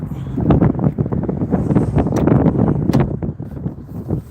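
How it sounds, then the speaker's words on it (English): Gusty wind buffets the microphone in uneven bursts, with rustling and rumbling bumps throughout and no talking. "It wasn't so windy. It wouldn't be so bad, but it's windy."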